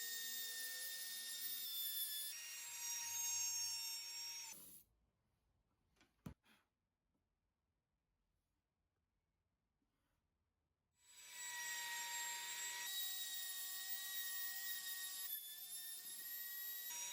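Power tool cutting a mortise in wood for a bread box, loud and whining, running steadily for several seconds, then near silence with a couple of sharp knocks, then the tool starts up again; no voices.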